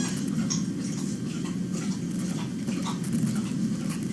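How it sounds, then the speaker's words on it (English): Steady patter of rain falling in central Pennsylvania, a continuous soft hiss with scattered drips, close by and even throughout. "It's raining in central Pennsylvania."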